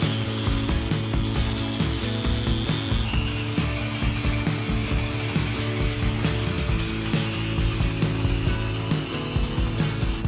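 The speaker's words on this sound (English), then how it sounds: "We always grind the concrete" A concrete grinder works a garage floor with a continuous loud, gritty mechanical grinding and rattling, steady and close, with no talking.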